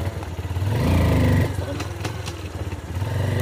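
A motorcycle engine idles and then briefly revs up nearby, a rough low throb that rises for about a second before settling back, with muffled background voices and some clatter.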